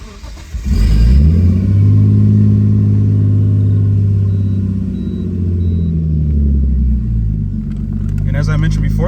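Cold start of a 1998 Nissan Skyline R34 25GTT, an auto converted to manual: the engine cranks and catches, then settles into a loud, steady, rumbling idle close by.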